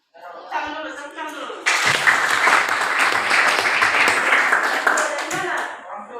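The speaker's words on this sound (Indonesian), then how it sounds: "Tepuk dulu." A class of students claps in unison on the teacher's cue during a lesson, a burst of loud, dense applause that follows brief talk and carries on for several seconds.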